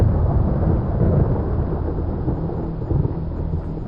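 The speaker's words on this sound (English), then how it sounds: "A distant rumble of thunder carried on the air from a faraway storm in the Caribbean." Low rolling thunder from a faraway storm in the Caribbean, a steady deep rumble sustained throughout with a soft rain-like wash over it and no voices.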